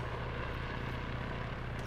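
Chopper in the military shooter Arma 3 heard in flight, a constant broad whirring engine roar with a deep steady tone, even in loudness and uninterrupted, without talk.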